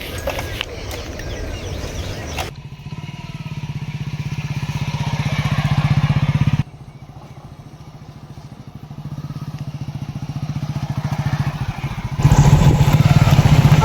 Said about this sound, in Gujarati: હવે બાઇક લઈને જઈએ ઘેર